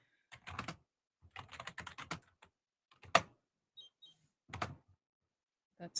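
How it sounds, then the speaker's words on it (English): Keys on a computer keyboard are tapped nearby in short, uneven clusters separated by brief silences, with a few sharper isolated keystrokes standing out. "I'm not used to typing on a keyboard."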